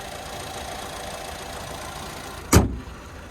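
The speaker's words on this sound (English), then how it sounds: "There's that 2-liter turbocharged 4-cylinder." A 2026 Cadillac XT5's 2-liter turbocharged four-cylinder idles with the hood open, a steady even hum throughout, broken near the end by one sharp thump like a door or hood.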